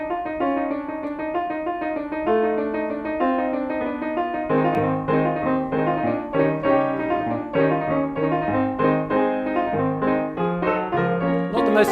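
Dense chordal piano playing Rachmaninoff in a flat, mechanical manner like a player piano roll, with steady loud chords and running figures throughout and no talking.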